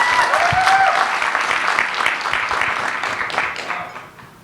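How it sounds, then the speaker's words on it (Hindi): An indoor audience at a motivational talk breaks into a burst of clapping that starts full and gradually thins and fades over several seconds, with a voice briefly audible underneath. "ताली हो जाए जमदार"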